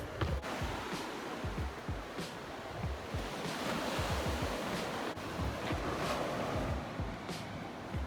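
Ocean surf rolls and washes continuously, with wind buffeting the microphone and low rumbles of breaking waves close by.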